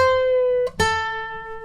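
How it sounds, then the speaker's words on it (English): Electric guitar plays a sustained bent note, then a brief break and a second picked note high on the neck that rings out and slowly decays, from the opening of a song, alone and close. "So those first 2 notes will sound like this."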